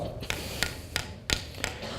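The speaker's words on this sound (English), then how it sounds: "we take our little toy hammer and we walk up to it and we start beating on it" A small toy hammer strikes a hard barrier in sharp, evenly spaced knocks, five distinct blows about a third of a second apart, close and fairly loud over faint room noise.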